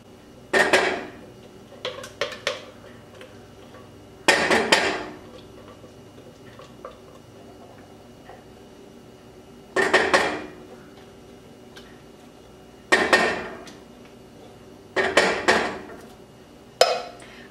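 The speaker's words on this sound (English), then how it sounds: "So I'll take my spatula and get all the soup out of the can." A spatula scrapes soup out of a metal can in several short, clattering bursts separated by quiet pauses, close and fairly loud in a home kitchen.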